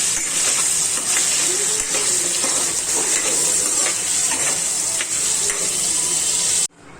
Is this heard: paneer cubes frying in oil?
yes